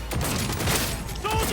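Incoming gunfire in the video game Cyberpunk 2077, a dense, continuous burst of loud shots filling a short stretch with game noise, with no pauses between rounds.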